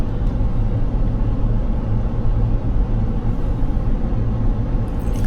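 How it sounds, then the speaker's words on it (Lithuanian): A Jeep engine idles while warming up on a cold morning, giving a steady, loud, low rumble that continues unchanged throughout with no voices. "Šildau mašiną?"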